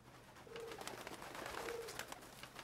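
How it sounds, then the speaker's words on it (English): Doves coo in the video game No More Heroes, two soft repeated coos rising over a steady bed of game ambience and background noise, with no talking. "Ooh, doves."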